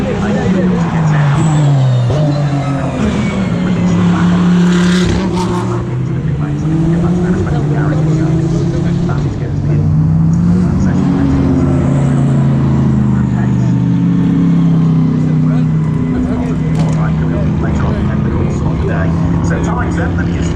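GT World Challenge race cars leave the pit lane at Brands Hatch, engines droning and rising as they pass through, with a crowd babble and a commentator talking continuously over the mechanical noise.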